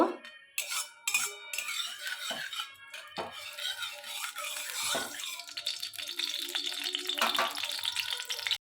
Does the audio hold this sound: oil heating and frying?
yes